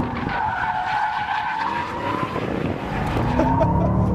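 Tires on a 2013 Ford Shelby GT500 squeal and skid on a race track under hard throttle, a sustained loud screech layered over the engine's roar for a few seconds.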